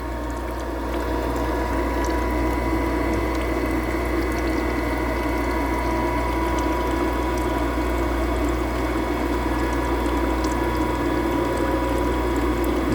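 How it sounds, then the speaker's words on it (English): A valve grinding machine's stone running on an engine valve with cooling fluid flowing, producing a steady mechanical hum and whirring drone with liquid splashing, constant and close throughout. "We need this fluid there to cool the valve and to kick any debris out of our stone."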